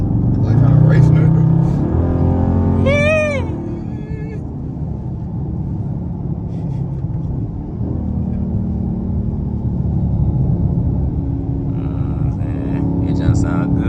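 A Dodge Charger R/T with a mid-muffler delete rumbles loudly, its exhaust note rising in a revving surge before settling into a deep steady drone, with people talking over it.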